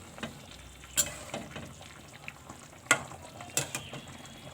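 Curry of potato, green plantain and rohu fish simmering in a covered pan with hot water, giving a soft steady bubbling sizzle with a few sharp clinks standing out, close by and fairly quiet.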